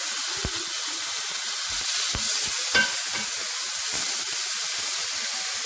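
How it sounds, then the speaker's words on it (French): Hamburger beef patties frying in a pan, giving a constant close, bright sizzle with occasional pops and spatters throughout, no talk. "Je vais les tourner de ce côté. Je vais laisser cuire un petit peu."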